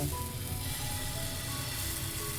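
Moong dal and curd batter sizzles steadily on a hot, lightly oiled pan, a continuous soft crackling hiss that stays even throughout, with no talk over it.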